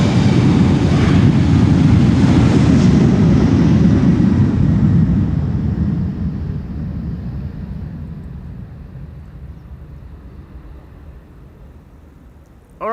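An airliner takes off from the Polderbaan runway at Schiphol, a loud, deep jet roar that holds strong for several seconds and then slowly fades into the distance.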